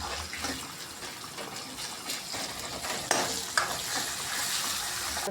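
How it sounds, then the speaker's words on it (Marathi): Tomatoes are stirred into a frying potato curry, producing a moderate sizzle with wet stirring sounds and a couple of sharper knocks of the spoon against the pan, with no speech. "आता टाकून घेऊया टमाटर, मस्त आता हलवून घ्यायचं।"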